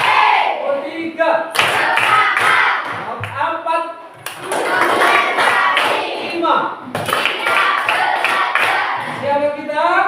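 A classroom of students claps together in counted rhythm patterns: sharp, loud bursts of group clapping in short sets, with a voice counting aloud and children's voices between the sets.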